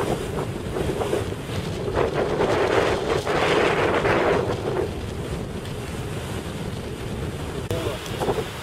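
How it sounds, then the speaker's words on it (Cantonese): Strong wind gusts across open water, whipping up whitecap waves, with rushing wind buffeting the microphone and choppy water sloshing throughout, swelling louder in the middle. "呢度都吹到起白頭浪啊"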